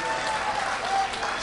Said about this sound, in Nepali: उहाँलाई पनि ठुलो तालीले स्वागत गर्दै